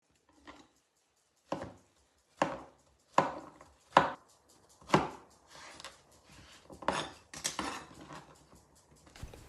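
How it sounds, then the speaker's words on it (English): A knife slicing zucchini into small cubes and then leeks on a board, about ten crisp separate chops in an uneven rhythm, close and clear in an otherwise quiet room with no speech. "I started off by slicing the zucchini into little cubes, and then I sliced the leeks"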